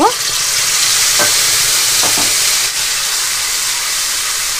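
Cumin and green chili paste fries in hot oil for a Shankar fish dish, giving a loud, steady, close sizzle that hisses throughout with a few faint spoon scrapes and no talk.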